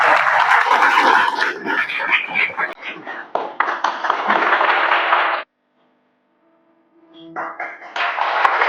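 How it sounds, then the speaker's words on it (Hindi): A crowd at a Marwah Education Foundation event in a Lucknow old-age home claps loudly and densely for several seconds. It breaks off into brief silence, then the applause returns. "तो इसके लिए भी एक बार मारवा एजुकेशन फाउंडेशन के लिए जोरदार ताली हो"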